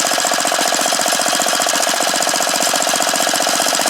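A small engine runs at a smooth, even idle after a carburetor idle adjustment, a loud, fast, regular putter heard up close and alone.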